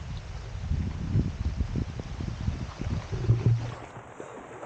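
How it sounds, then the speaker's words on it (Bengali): Heavy rain with strong wind falls over a cucumber plot beside paddy fields, a steady dense wash of noise with low gusty rumble throughout. "আর বৃষ্টিটা প্রচুরই হচ্ছে"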